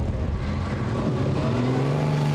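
Vintage GN-based racing car engine at the S.F. Edge Trophy race, a loud sustained roar with rising pitch as it accelerates near the listener, no voices.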